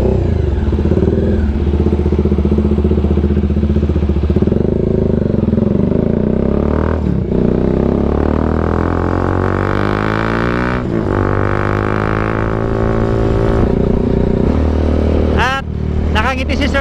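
A Bajaj Dominar 400 motorcycle engine roars loudly while riding, with rising and falling revs and gear changes, heavy wind rumble throughout and someone talking over it.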